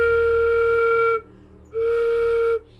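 A flute head joint blown to imitate a train whistle gives two loud, sustained, hooting tones close by, each held about a second with a short gap between them.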